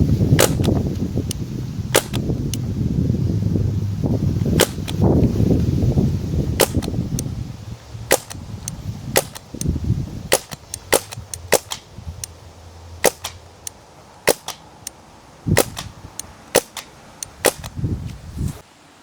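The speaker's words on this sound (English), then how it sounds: "And we're gonna shoot and see what kind of pattern we can get with that." Repeated sharp cracks from a CO2 air rifle firing pellets at a target 75 feet away, about a dozen or more irregularly spaced shots, loud and close, over a low rumbling background.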